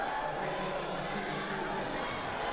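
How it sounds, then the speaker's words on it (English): A large crowd murmurs steadily at a high school boys basketball game in a gym in Childersburg, Alabama, a constant, even wash of voices and arena noise with no distinct cheers. "Huge crowd on hand in Childersburg, Alabama tonight."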